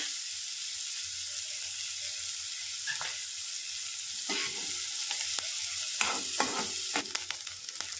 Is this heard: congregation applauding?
no